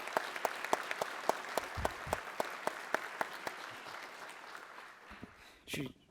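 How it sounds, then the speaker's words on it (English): A small audience at a school committee meeting gives a brief round of applause, sparse distinct claps that thin out and fade, with a voice near the end. "let's give her another round of applause"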